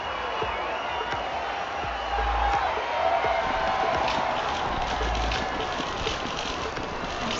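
Video game crowd cheering and applauding after a referee raises the winner's hand in a match, a dense, continuous roar of clapping and voices at steady loudness throughout.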